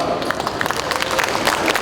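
An audience claps at a Seoul campus town festival, a steady patter of many hands close by, dense and unbroken throughout.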